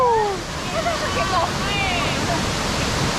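A constant rushing roar of falling water fills the background, with bird-like chirps and whistles over it and a voice briefly audible.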